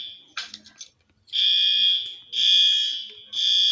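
Fire alarm going off during a test, loud electronic horn tone in three long repeated blasts with short gaps, preceded by a brief burst of rattling noise.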